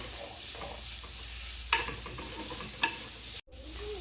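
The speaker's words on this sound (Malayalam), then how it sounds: "ചട്ടി ചൂടായപ്പോൾ എണ്ണ ഒഴിച്ചിട്ടുണ്ട് ശേഷം ഉള്ളി ഇട്ട് കൊടുക്കുന്നുണ്ട്" Two onions sizzle in hot oil in a pan, a steady frying hiss broken by a few sharp scrapes of stirring and one brief dropout near the end.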